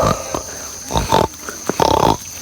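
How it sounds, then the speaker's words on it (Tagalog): Pigs on a walk through Bangkong Kahoy, Dolores, Quezon oink and grunt in several short, close bursts over a steady background hum. "Sabi ng mga baboy."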